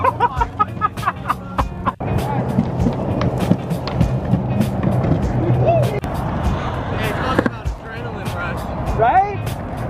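A WOWGO budget electric skateboard rolls steadily over pavement, a continuous low rumble of wheels with sharp clicks and clacks over cracks, loud and close, while people talk and call out excitedly around it.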